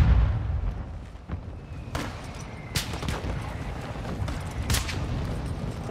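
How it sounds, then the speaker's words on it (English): A friendly mortar strike in Call of Duty lands as a few sharp, spaced booms and cracks over a constant rumble of battlefield noise. "Friendly mortar strike on the way."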